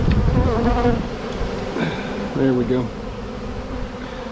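Wild bees from a hive taken out of a cedar tree hum and buzz steadily, close by, while a person speaks briefly over the drone.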